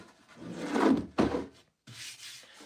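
A Bosch corded sander works wood, likely pine or Douglas fir, in two rough rubbing bursts followed by a brief pause and a softer, steadier stretch of sanding.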